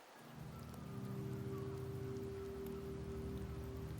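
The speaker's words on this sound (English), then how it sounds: "The rains in Septimont never seem eager to leave this season." Steady rain falls in Septimont in a video game, a soft, even patter on surfaces that continues without a break under a low, sustained tone, with no voices.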